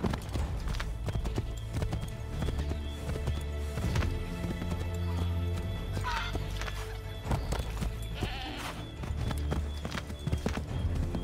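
Horse hooves clip-clop in a rapid galloping rhythm throughout, with an occasional whinny, in the video game Assassin's Creed 3. Game sounds and music play beneath, and a voice briefly speaks.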